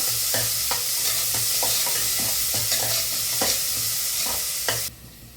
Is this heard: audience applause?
no